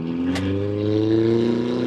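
A twin-turbo small-block Ford V8 in a tractor-styled bug idles and rises in a steady, close rumble with strong low harmonic tones, briefly swelling in pitch and volume; no talk over it.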